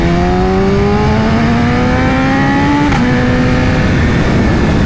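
A BMW S1000RR motorcycle with a loud Akrapovic exhaust revs up close in one steady rising climb, its pitch sweeping upward with a brief hitch near the top, loud and continuous throughout.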